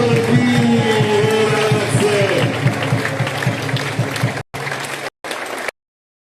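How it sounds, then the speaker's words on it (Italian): Applause in a volleyball arena at an Imoco versus Synergy match as a fourth-place team receives its award, sustained crowd clapping mixed with a rhythmic low thumping and background voices, then abruptly cut into short segments. "L'applauso per Sinergi,"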